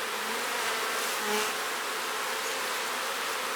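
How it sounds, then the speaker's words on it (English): Honey bees buzz in a steady, dense drone as they are swept off a hive frame with a synthetic fiber brush, the hum close and continuous with a slight swell midway. "I'm going to brush the bees off using a synthetic fiber brush."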